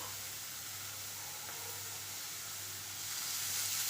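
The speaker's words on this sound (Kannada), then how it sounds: "ಎಣ್ಣೆ ಹಾಕಿ ಉಳ್ಳಾಗಡ್ಡಿಯನ್ನು ಹುರಿತೀನಿ" Onions frying in oil for a bangude (mackerel) gravy, a steady close hiss and sizzle running throughout and swelling slightly toward the end, with no talk.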